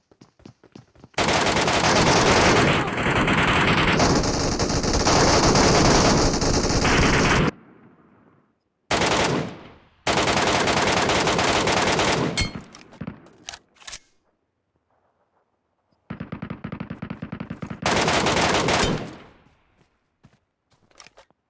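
Video game gunfire in PUBG Metro Royale: long, loud, close automatic bursts, then shorter bursts separated by silent gaps.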